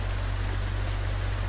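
Rain in the driving game BeamNG Drive on an East Coast USA map, a dense, steady hiss of falling rain over a low constant hum, brief and uniform.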